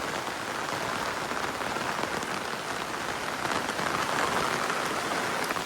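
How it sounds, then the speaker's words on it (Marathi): Steady, even rain falls on a surface, with a dense patter of drops and no other sounds. "पाऊस पण इलो."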